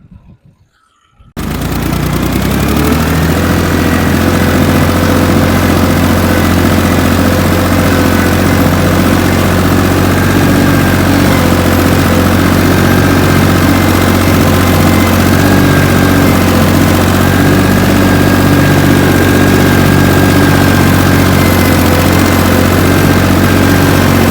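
A Dongfeng 12 hp tractor pulling a 2-25 plough to a field: after a moment of near silence the engine roars in loud and close, then holds a steady, heavy droning rumble with no speech.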